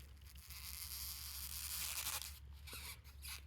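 A kitchen knife saws through a rubber bump stop from a Porsche 997 suspension, giving a steady, close rasping and tearing sound that runs continuously for a few seconds with no talking.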